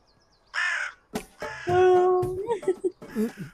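A crow caws several times, close and loud, in harsh, rasping calls broken by short pauses.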